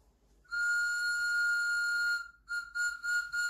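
A whistle lollipop candy is blown into, giving a bright, sustained whistle tone of about two seconds followed by several short, quick toots, alone with no talk.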